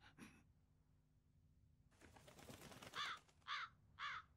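A crow in the video game Tales of Berseria gives three loud, harsh caws in quick succession near the end, after a brief earlier call and a stretch of rustling ambience.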